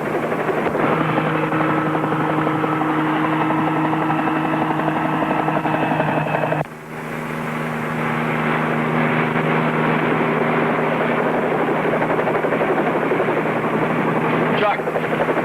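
Steady, loud helicopter rotor and engine drone fills the whole clip, with a brief dip in level midway before the roar resumes, continuous and close.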